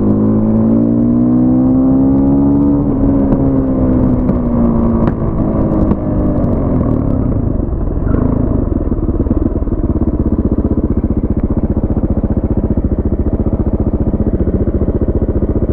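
Husqvarna WR510 motorcycle engine revving loud and close, pitch climbing then settling into a steady rough drone for about fifteen seconds.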